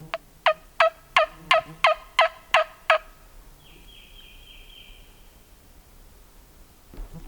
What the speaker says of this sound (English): He gobbled right back at that call